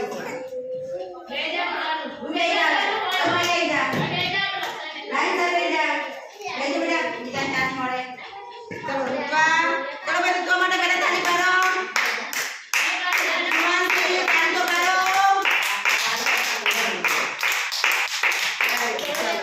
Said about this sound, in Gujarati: ચલો તો આ દીદી માટે તાળી પાડો